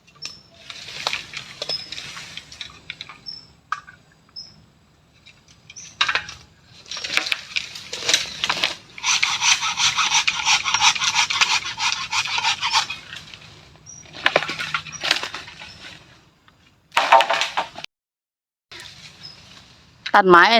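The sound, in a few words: cutting wood with a knife in the forest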